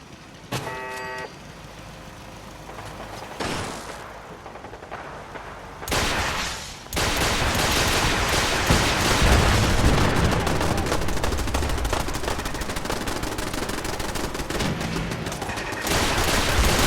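Turret gunfire defending the castle in Fallout 4: rapid bursts of automatic fire build into a dense, sustained barrage of overlapping shots and explosions, loud and continuous, following sparser early shots and a brief electronic tone.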